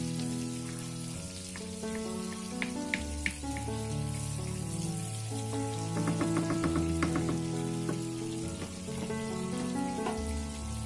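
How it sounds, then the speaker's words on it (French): Butter melts and sizzles in a frying pan before gnocchi are pan-fried, giving a soft, steady crackle throughout under louder background music. "Donc je fais fondre du beurre."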